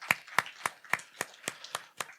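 Slow, evenly spaced handclaps at a youth conclave, about eight crisp claps in a steady rhythm, fairly close and distinct.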